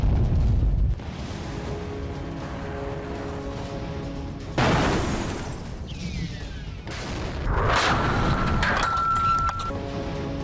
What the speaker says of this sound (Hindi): रूस की मिसाइलें कीव में बम बरसा रही हैं।